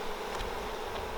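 Honey bees held in a jar during a powdered-sugar varroa mite check buzz in a dense, continuous drone, loud and close, with no voices.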